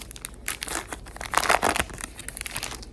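Plastic wrapper of a 2023 Allen and Ginter hobby baseball card pack crinkles and tears open in a close, busy burst of rustling lasting a few seconds, loudest midway, with no talking.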